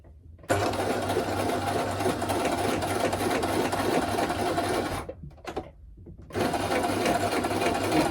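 A sewing machine stitches teddy bear fabric in a loud, continuous close whir, stops briefly, gives a short burst, then resumes running steadily.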